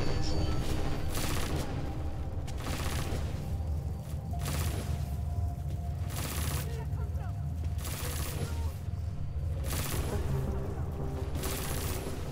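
Devastator torpedoes firing in the game Deus Ex Mankind Divided, a series of loud, dense bursts repeating roughly every one to two seconds over a constant roaring background.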